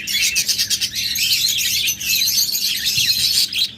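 Many small pet birds, lovebirds and budgerigars, chirp and tweet nonstop, close and loud, in a dense chorus.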